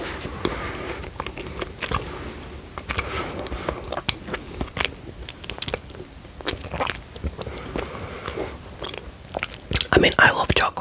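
Someone bites into and chews Tony's chocolate up close, making crisp crunches and soft wet mastication in irregular bursts, with quiet whispering and talk mixed in.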